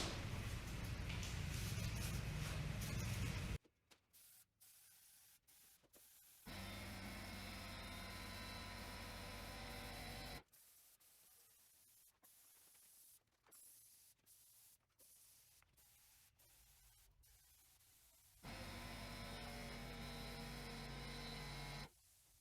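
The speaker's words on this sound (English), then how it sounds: "Next I'll use this critter sprayer to spray the poly." A critter sprayer spraying polyurethane hisses loudly in long continuous bursts, starting and stopping several times, with quieter handling noises in the pauses between passes.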